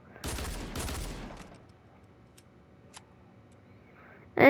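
Dual pistols fire in the Fortnite video game: a rapid burst of close, sharp shots at the start, a single faint click in the quiet middle, then another loud shot burst right at the end.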